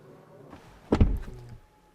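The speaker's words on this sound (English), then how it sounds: "Soft closing doors also in the rear." The rear door of a Mercedes-AMG GT 63 4-door pulls itself shut with its soft-close mechanism, giving a single muffled thunk followed by a brief low mechanical whir that fades.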